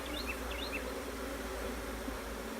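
A honeybee swarm drones in a continuous close buzz, with a few individual bees whining past near the start over a steady low hum; no one speaks.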